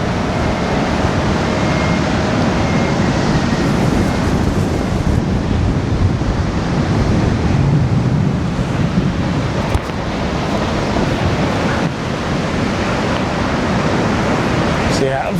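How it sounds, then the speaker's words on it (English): Massive sea waves crash onto Levante Beach in Benidorm during an orange-alert windstorm, a continuous loud roar of surf and gusting wind buffeting the microphone throughout, with no pauses. "Some massive waves we got today."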